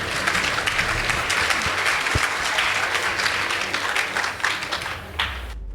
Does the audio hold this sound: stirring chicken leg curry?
no